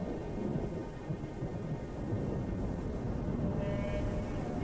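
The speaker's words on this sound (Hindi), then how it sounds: "दोपहर ढलने तक इस गर्मी और नमी से जोरदार बारिश होती है।" Heavy afternoon rain pours steadily in a summer storm, with a loud, dense roar and deep rumbling thunder rolling underneath throughout.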